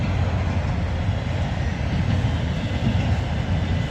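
Freight trains pass each other in Abbeville, a steady, loud, close rumbling roar of rolling rail cars that holds without letup for the whole stretch.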